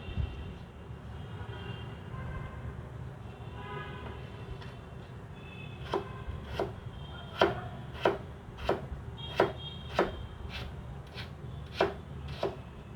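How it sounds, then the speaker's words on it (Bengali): A knife chops potatoes on a cutting board, starting with soft, irregular slicing and scraping, then settling into a run of about a dozen crisp, evenly spaced thuds close by. "এভাবে আমি বাকি আলুটাও কেটে নেব"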